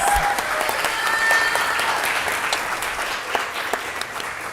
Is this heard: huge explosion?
no